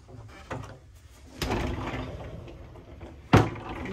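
Solid wooden double pocket door inside a 2020 Entegra Aspire 44W Class A diesel motorhome, a soft rolling slide followed by a sharp thump as it closes, near and alone.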